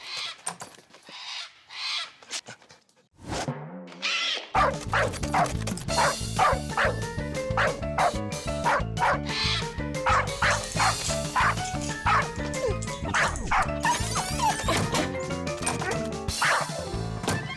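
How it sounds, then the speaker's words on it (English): A cartoon dog barks loudly and repeatedly in a quick yapping rhythm, mixed with a few whimpers, over a steady musical background after a brief quiet opening. "It looks like he knows how to speak dog."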